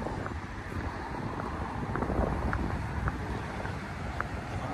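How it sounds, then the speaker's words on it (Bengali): Strong wind on a cold winter morning beside the Moskva river in Russia, a continuous loud rushing roar buffeting the microphone throughout, with no talking. "আর খুব বাতাস।"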